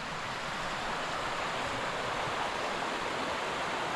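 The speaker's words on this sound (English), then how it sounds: "there's the bottom of the waterfall here," Mok Fa Waterfall in Pai, Thailand roars without a break, a dense, even wash of falling water heard up close with no other sounds on top.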